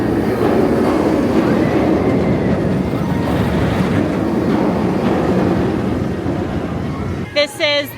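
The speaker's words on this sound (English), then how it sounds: "I'm going to stand here a second and show you guys this roller coaster" A roller coaster runs at SeaWorld San Antonio, a loud, continuous rumble of wheels on track close by. A voice speaks briefly at the very end.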